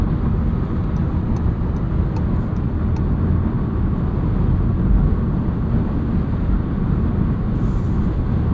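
Steady low road rumble and tyre noise inside a moving 2023 Volkswagen Jetta Sport with a 6-speed manual, a constant broadband roar with no talking.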